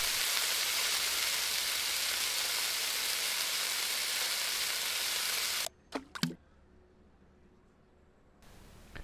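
Butter melting in a pan in the Cooking Simulator video game, a steady loud frying hiss that cuts out abruptly partway through, leaving a few faint clinks and near silence.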